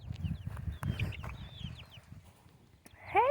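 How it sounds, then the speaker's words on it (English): Young chicks peep in quick, high, thin chirps, scattered and fairly close, over soft low shuffling and scratching, with a brighter burst of calls at the very end. "Here are the chicks, y'all."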